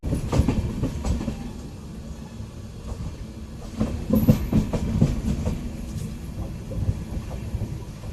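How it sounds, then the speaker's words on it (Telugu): Intercity Express hauled by a WAP electric locomotive with ICF coaches rolling past on the neighbouring platform at Kanjikode, a close, heavy rumble with wheel clatter that swells midway. "ప్రక్క ప్లాట్ఫామ్లో వేప్కో లోకోమోటివ్ ICF కోచెస్తో ఒక రైలు"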